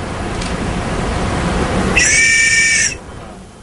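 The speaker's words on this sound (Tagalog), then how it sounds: "meron din siyang pito para ganoon din pang tawag pansin din sa mga rescuer" A safety whistle for calling rescuers' attention gives one short, shrill blast of about a second, loud and near, over a steady background hiss.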